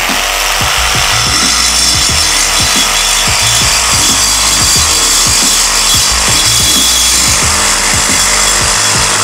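Dong Cheng reciprocating saw cutting metal, a loud continuous harsh buzz with rapid rhythmic strokes running the whole way through, close and alone.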